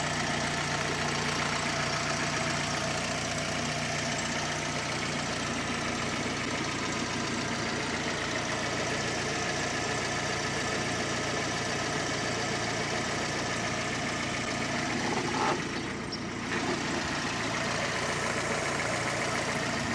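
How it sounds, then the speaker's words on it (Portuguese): A 2004 Fiat Palio's engine idles steadily for the full stretch, a constant close hum with a brief dip near the end, no talking over it. "E o motor, ouça a saúde do motor"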